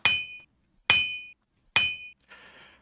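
Three sharp, ringing hammer strikes spaced about a second apart, each with a bright metallic tail, followed by a softer, noisier scrape or crunch at the end.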